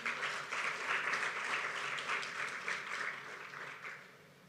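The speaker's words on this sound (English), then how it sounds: "Can we give a big round of applause one more time?" An audience at the Enough campaign launch in Rwanda breaks into sustained applause, a dense steady wash of many hands clapping that carries on loudly and then tapers off toward the end.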